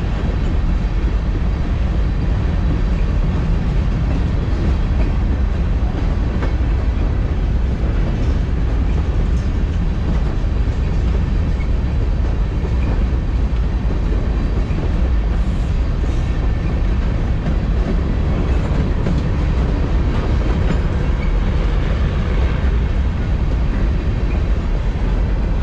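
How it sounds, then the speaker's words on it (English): A train passes on an old rail line with a loud, continuous rumble and clatter of wagons that holds steady for the whole stretch, with no talk over it. "I guess that answers my question as to whether or not trains actually still use this rail."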